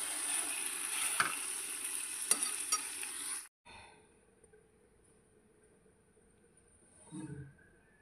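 Spices frying in a pan, a close, steady sizzle with stirring scrapes that cuts off abruptly partway through, leaving near silence and a brief soft rustle near the end.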